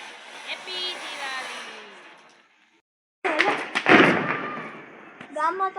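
Two or three sharp firecracker bursts crackle close by after a brief silence, with people talking and calling out before and around them during Diwali.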